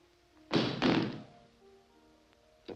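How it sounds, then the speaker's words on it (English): A gun dropped to the ground in a 1954 crime film scene, two quick heavy thunks close together followed by quiet and a faint tap near the end. "Drop that gun."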